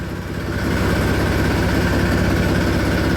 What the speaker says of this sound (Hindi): ट्रैक्टर की आवाज़ बिल्कुल गोल हो गई है